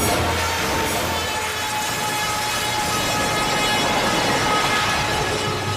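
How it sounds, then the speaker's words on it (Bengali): A train rumbles past continuously with a dense, steady clatter of rail noise, close and loud throughout with no break, and no voices. "ট্রেনের আওয়াজ আসছে কিন্তু কিন্তু ট্রেনকে দেখা যাচ্ছে না।"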